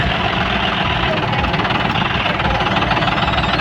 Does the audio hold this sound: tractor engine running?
yes